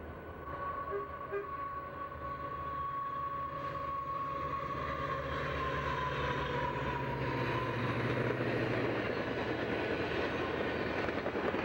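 Amtrak's eastbound Empire Builder passenger train rumbles past at a distance while a freight waits on a siding, with a steady low rolling roar and a long faint horn tone early on.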